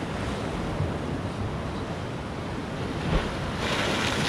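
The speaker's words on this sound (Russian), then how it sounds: "Друзья, идет огромная волна." Large sea waves crashing and surging onto the Crimean shore in winter, a loud continuous roar of surf with wind, no voices.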